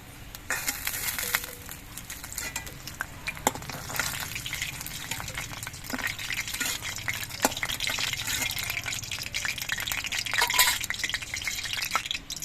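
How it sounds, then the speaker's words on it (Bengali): Taro pakoras deep frying in hot oil give a dense, continuous bubbling crackle with scattered sharp pops, heard close and at an even level. "বাকি পকোড়াগুলো আমি একইভাবে ভেজে নিচ্ছি"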